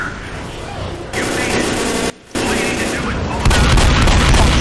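Gunfire in Left 4 Dead during a Tank fight, dense and loud bursts of shots close by, briefly cut off, then swelling again, with players shouting over it.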